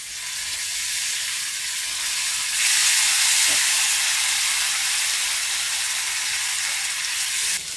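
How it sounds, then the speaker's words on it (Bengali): Spice paste for mixed vegetable ghonto frying in a pan, a steady close sizzle and hiss that swells louder partway through as water is added, continuing without pause. "এরপরে মশলাটা আমি একটু ভাজা ভাজা করে নেব।"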